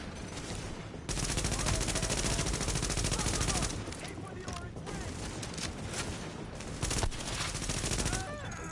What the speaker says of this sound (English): With all that gunfire drawing the Rikers' attention